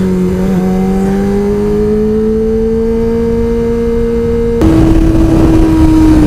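A motorcycle engine pulls hard and climbs in pitch as it accelerates through a road tunnel at night, loud and close with a steady rising drone, then a quick shift to a higher, rougher note near the end; no talking.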